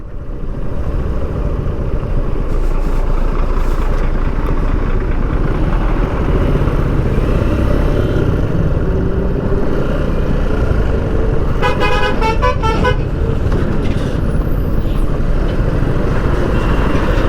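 Heavy highway traffic on the single-lane Mumbai-Goa highway, a loud continuous rumble of engines with a burst of rapid repeated car horn honks near the middle.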